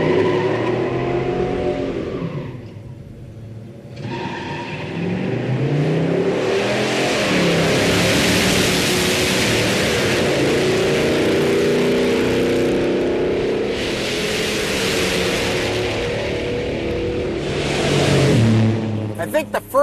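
A Buick GS455 muscle car with a 455 engine in an intermediate A-body revs and accelerates hard on a run, a loud, sustained roar that rises and fades as it pulls away.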